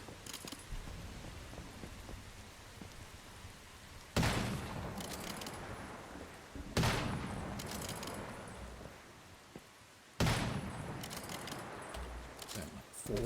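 Gunshots in the survival shooter Once Human, four loud single shots spaced a few seconds apart, each a sharp crack with a ringing tail, over quiet game ambience.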